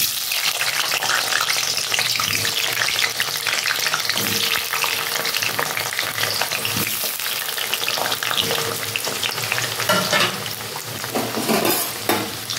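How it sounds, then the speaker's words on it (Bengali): Cut potatoes fry in hot mustard oil for a Bengali chicken curry, a loud, dense, steady sizzle and crackle with occasional stirring scrapes, close up and with no speech. "সর্ষে তেল দিয়েছি আর তেলটা অলরেডি গরম হয়ে গেছে, আর আমি কেটে রাখা আলুগুলো এখন ভেজে নেব"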